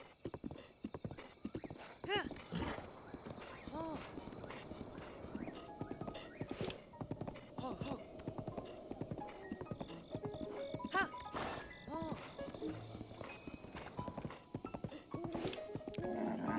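Steady clip-clop of horse hooves at a riding pace in the video game Breath of the Wild, with occasional whinnies and game sounds mixed in, under ongoing talk.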